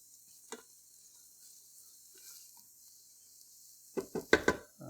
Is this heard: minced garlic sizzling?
yes